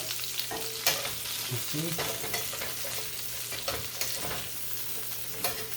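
Goat meat for a Japanese curry sizzles and fries steadily in a hot pan, with scraping stirs and clinks of a utensil punctuating the constant crackle, close up, with a brief spoken remark.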